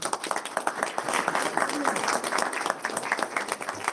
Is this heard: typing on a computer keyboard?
no